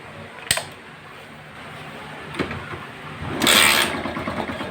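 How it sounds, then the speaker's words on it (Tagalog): A couple of sharp clicks, then an engine catches with a loud rising burst and keeps running with a rough, steady drone nearby. "So, let's start the engine."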